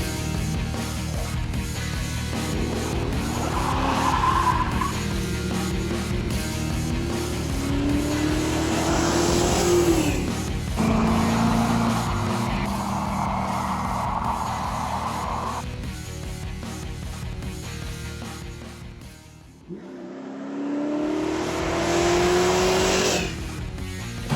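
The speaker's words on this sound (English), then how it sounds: "He's gonna do a little spirited driving for me." A car driven hard on a muddy track, its engine revving and surging up and down with bursts of tire squeal, loud and close throughout with a brief dip near the end.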